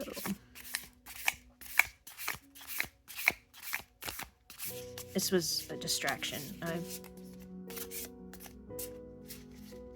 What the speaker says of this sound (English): I'll overhand shuffle if I can't riffle shuffle.